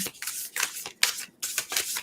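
A deck of cards shuffled by hand for a tarot-style card reading, giving several quick riffling bursts with short pauses between them, close and fairly loud, with no talking.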